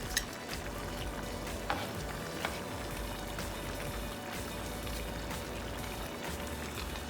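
Onions fry alongside steak and potatoes in a pan, a soft, even crackling sizzle with scattered light pops and a few faint clicks, fairly quiet and with no voices.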